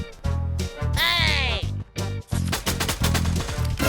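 Rapid bursts of gunfire from a battle royale shooter video game come in quick, close, loud volleys separated by brief gaps, with a faint voice underneath.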